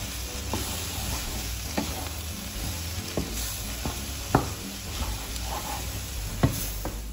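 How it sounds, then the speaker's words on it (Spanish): Two hundred grams of sliced mushrooms fry in a hot pan for a vegan cannelloni filling, giving a steady close sizzle with a few sharp spatula scrapes and clicks scattered through it. "Voy a echar 200 gramos de champiñones."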